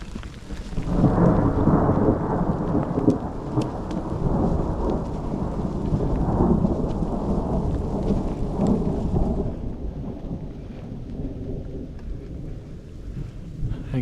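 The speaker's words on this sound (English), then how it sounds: "I don't know if you can pick that thunder up, but it's like right overhead." Thunder rumbles directly overhead during a giant thunderstorm on the Cathedral Lake Trail in Yosemite, a deep, sustained roll lasting many seconds over steady rain, easing toward the end, with no talking.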